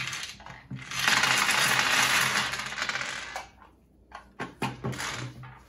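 A large pile of plastic dice pours out of a dice crypt box in a loud, dense rattling cascade for a few seconds, followed by a handful of separate clattering tumbles as the last dice settle.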